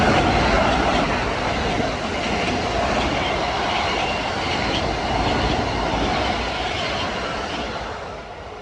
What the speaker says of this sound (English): Here comes the express on 7.